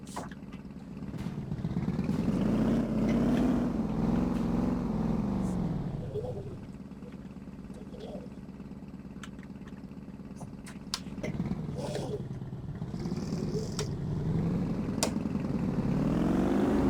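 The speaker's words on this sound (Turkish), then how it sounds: "Biraz motosiklet sesi gibi yapmışlar ama hani gürleme açısından tatlı yani." A loud, throaty Mercedes Brabus B63 engine in the game City Car Driving revs up and down in waves, rising and falling in pitch, with a steady rumbling drone between revs.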